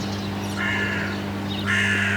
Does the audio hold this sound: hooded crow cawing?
yes